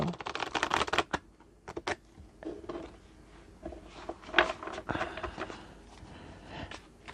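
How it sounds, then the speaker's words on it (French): Stiff tarot cards are shuffled by hand, with bursts of quick crisp riffling and flicking that come and go over several seconds, close and fairly quiet, without talk. "Je vais quand même le mélanger si j'y arrive parce que les cartes elles sont assez dures"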